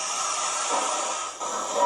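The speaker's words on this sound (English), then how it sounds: "Time to steam up now." Hornby Black 5 model steam locomotive with a steam generator gives a steady, close hiss of fairly even loudness that dips briefly near the end, with no voices.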